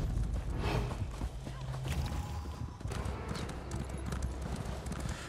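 Several horses clip-clop steadily together in Elder Scrolls Online PvP, a dense, continuous trot of hooves with an occasional faint whinny, mixed with game ambience and faint voice chatter.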